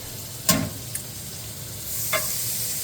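Butter sizzling over medium-high heat in a pan with caramelizing onions, a steady soft hiss broken by two brief scrapes of stirring, no voices.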